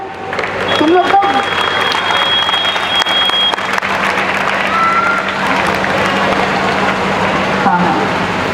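Dense crowd applause in a hall during a speech by a coaching center director, loud and sustained, with voices mixed into the clapping and a low background hum.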